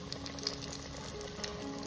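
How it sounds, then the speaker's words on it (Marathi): Poha-coated raw chicken pieces fry in a home kitchen, a faint, steady crackle and sizzle with small pops, brief and without talk. "एक आपण फ्राय करून घेऊ."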